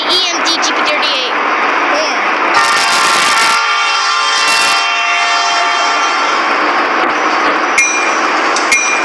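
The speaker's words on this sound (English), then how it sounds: "Listen to the EMD GP38." An EMD GP38 diesel locomotive in a train simulator game drones with a steady harmonic engine hum throughout, broken by two short loud horn-like bursts near the middle, while people talk over it.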